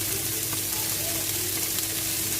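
Onions and a vegetable mix fry over low heat in a pan, giving a steady, even sizzle with faint crackles throughout and no talking.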